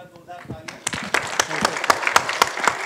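Audience applause at a film trailer launch builds from speech into a growing patter of claps, individual hands sharp and close, with a voice talking at the start.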